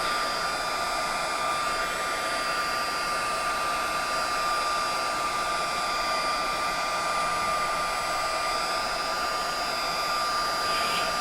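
A heat embossing tool blows hot air across cardstock with a steady, loud, close whirring hiss and a constant whine, running unbroken the whole time with no voices.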